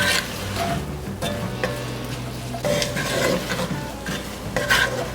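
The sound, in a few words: onion, celery and garlic sizzling in butter in a Dutch oven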